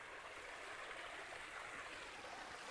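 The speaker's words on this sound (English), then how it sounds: "But this is where the water runs out." Water rushing out through a ranch dam's emergency spillway, a steady broadband wash of flowing water, continuous and fairly close with no talk.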